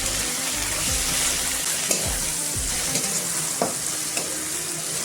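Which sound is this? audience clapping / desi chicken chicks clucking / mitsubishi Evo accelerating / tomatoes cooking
tomatoes cooking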